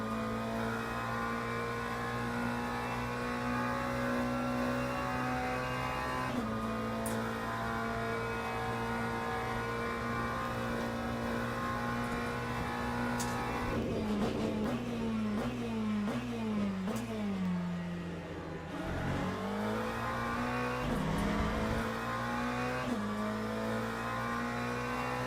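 A race car engine in the Le Mans Ultimate sim game screams at steady high revs, then drops in a series of stepped downshifts as it brakes for a turn and climbs again as it pulls away.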